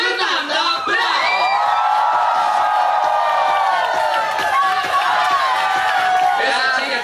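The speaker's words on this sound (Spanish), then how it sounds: "Fuerte el aplauso para despedir a la hermosa Fernanda Bravo." A club crowd at Club Indigo in Iquique sends off Fernanda Bravo with loud, continuous cheering, shouts and clapping, a voice rising over the din at times.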